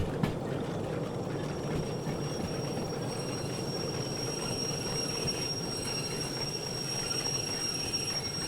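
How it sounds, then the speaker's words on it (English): A big S060 locomotive in the Derail Valley train game rolls slowly to a stop to park, with a steady rumbling rail noise and thin, high wheel squeal running over it throughout, fairly loud and close, with no talking. "this big locomotive, well, this big train's about to be parked"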